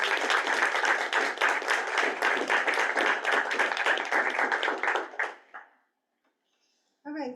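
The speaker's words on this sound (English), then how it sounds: "Another round of applause." A crowd at a school board meeting claps steadily for about five seconds, then the applause fades into silence before a brief sound at the end.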